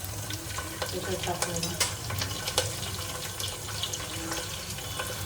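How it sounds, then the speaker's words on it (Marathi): Curry leaves crackle and sizzle as they hit hot oil for a Malvani mutton rassa, with scattered sharp pops over a steady frying hiss, heard up close at moderate volume. "कढीपत्ता टाकूया."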